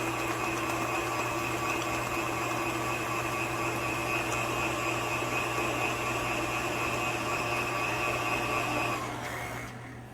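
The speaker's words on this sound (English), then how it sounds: "Once it's incorporated enough, you can turn your mixer up. Get a nice whisk to it." An electric mixer whisks pumpkin cheesecake filling at a raised speed, producing a steady, close motor whine with a constant hum that runs unbroken for about nine seconds, then winds down.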